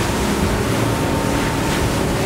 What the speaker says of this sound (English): I've got 46 kilometers an hour through choppy water